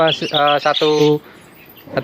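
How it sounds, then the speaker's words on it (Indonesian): A tiplek sawah field bird sings a short series of bright, harmonic whistled notes close up, then falls quiet with faint background hiss and a brief chirp at the end. "Terus ini burung tiplek sawah ya, ini suaranya bagus banget."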